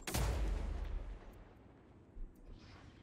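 A single heavy, booming rifle shot from a video game opens the moment loud and close, then its echo trails away, followed by faint rumbling.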